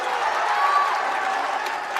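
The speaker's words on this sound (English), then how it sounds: "Draws the cheering from the students" Students in a high school gym cheer during a boys basketball game between Mountain Ridge and Bingham, a continuous crowd roar with scattered clapping and shouts, steady and fairly loud throughout.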